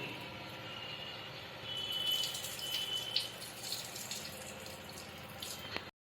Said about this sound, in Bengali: এভাবে তিন চারবার আমি ভালো করে চালটা ধুয়ে নেব